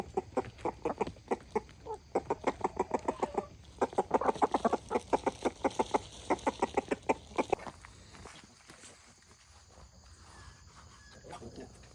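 Rapid rhythmic clucking and quacking from chickens, white ducks and young geese in a coop close by, in repeated bursts, fading to quieter outdoor ambience near the end.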